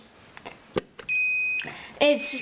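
Shrill electronic beeps from a flood detector as water reaches about 7 inches, a long high tone followed by a second louder beep, with a voice speaking briefly just before.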